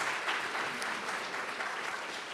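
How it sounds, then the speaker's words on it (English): Steady, dense applause from an audience at a school board candidate forum, a continuous wash of clapping with no pauses for the whole stretch. "Let's have a hand for Snowda real quick"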